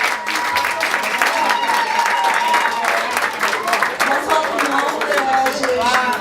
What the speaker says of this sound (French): On applaudit, merci.